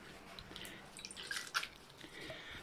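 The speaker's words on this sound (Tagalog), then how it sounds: "Hugasan muna siya sa tubig." Binunga leaves washed in water, with soft intermittent drips and splashes, fairly faint and close, a slightly louder splash midway.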